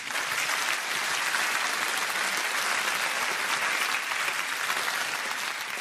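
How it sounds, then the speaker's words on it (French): A theatre audience at a stage comedy applauds, a dense, continuous wash of many hands clapping at an even, loud level for the whole stretch. "on peut l'applaudir"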